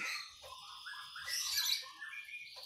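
A pet songbird in good health with fresh new feathers calls in short, bright chirps and squawky phrases, close and clear, with no talking.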